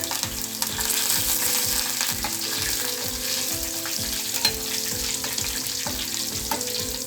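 Curry leaves and tempering seeds sizzle and crackle in hot oil for onion-chili masala, a steady loud frying hiss with rhythmic scraping of a spatula stirring the pan, close up, with no voices.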